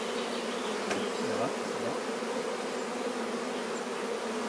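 Honeybees drone steadily around an open hive frame as it is set back into a hive with a super, a dense continuous buzz close by, while a person briefly speaks over it.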